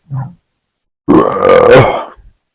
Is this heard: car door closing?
no